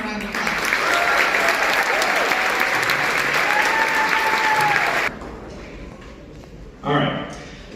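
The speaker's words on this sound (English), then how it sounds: "So give them one more round of applause." Loud, full applause from a school spring band concert audience fills the first five seconds and then cuts off abruptly, leaving quiet room tone and a short burst of voice near the end.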